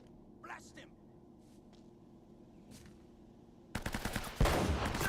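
Rapid gunfire bursts from the video game Uncharted Drake's Fortune erupt loudly in the last second after a quiet stretch with scattered faint clicks.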